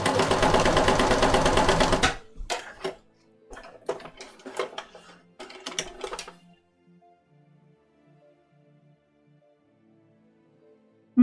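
A sewing machine stitches a shirt mock-up in a loud, dense two-second run, then stops; scattered clicks and handling knocks follow before the clip settles into near silence.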